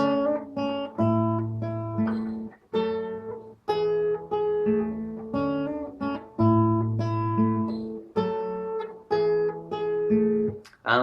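An acoustic guitar plays the main verse riff of a song, plucked notes and short chord hits, clear and close, in a steady rhythmic pattern with brief pauses between phrases.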